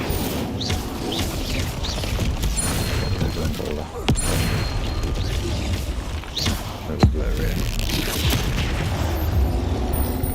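Booming bursts and crashes of an Incendio fire spell in Hogwarts Legacy combat, with sharp impacts around four and seven seconds over continuous battle noise, and a voice speaking at times.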